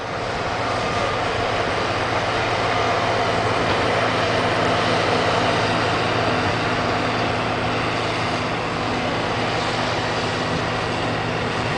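A heavy truck hauling replacement sediment on a soil works site, a steady low engine rumble and broadband roar held at an even level throughout, no talk.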